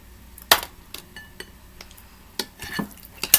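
Soup being stirred in a pot just after an egg has been added, with a few sharp clinks of a utensil against the pot rim and soft scraping between them, close and fairly quiet.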